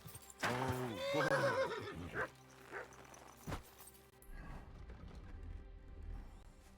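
In the medieval game Kingdom Come: Deliverance II, a horse lets out a loud, close whinny, followed by a few scattered thuds and clatters and then a low rumble of hooves, with no speech.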